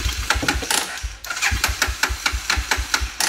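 A minibike engine cranks and sputters as it tries to start, giving a fast run of regular loud pulses with brief catches, close and alone without talk.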